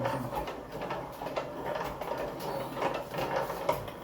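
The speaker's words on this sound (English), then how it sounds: "So we're grinding the turmeric further into dust, or as close as possible." Turmeric being ground by hand into fine powder for traditional Jamaican curry powder, a steady rasping, scraping grind that runs continuously with a slight rhythmic pulse, close and fairly loud with no talking.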